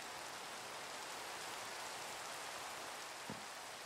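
Rain falling in Minecraft survival gameplay with shaders, a steady soft wash of raindrops throughout, a brief low thump near the end, no talk.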